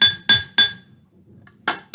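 Glass pieces inside a homemade percussion instrument clink and rattle in three quick, bright, ringing strikes, then a pause before a fourth rattle, loud and close.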